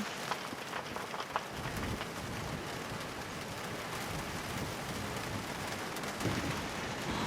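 Steady rain falls over the open Serengeti savanna, a soft continuous patter with a few louder drops, fairly quiet and with no voices.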